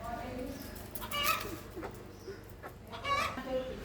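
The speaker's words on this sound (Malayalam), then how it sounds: "കോഴികളെ കണ്ടോ?" Chickens cluck in short, scattered bursts at close range, mixed with light background voices and soft rustling.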